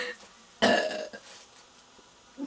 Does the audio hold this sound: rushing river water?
no